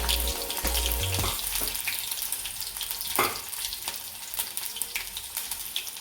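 Cumin seeds and chopped tomato drop into hot oil with mustard seeds and green chili in a pan, giving a loud, continuous close sizzle with crackling bursts as each addition hits the oil.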